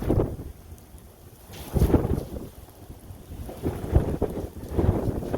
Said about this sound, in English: When's that thunder gonna hit?